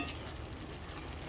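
Ginger simmering in tamarind water in a pan for Kerala inji puli, a sadya ginger pickle, gives a brief, steady close hiss of bubbling with no voices.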